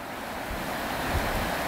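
Tidal river water washes against rocks with a steady, broad rush of waves and a low rumble, close by and continuous, with wind buffeting the microphone and no voices.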